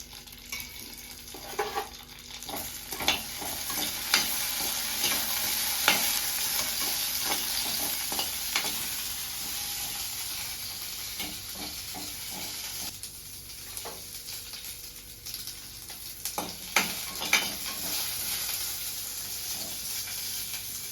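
Green chillies fry in oil in a pan for a tamarind peel chutney: a steady, close sizzling hiss runs throughout, broken by frequent scraping clicks of stirring.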